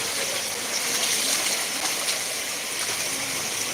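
Rainwater rushes along a flooded street on BSCIC Road in Masdair, Narayanganj, a continuous gushing, splashing wash of water heard up close, steady throughout with no voices.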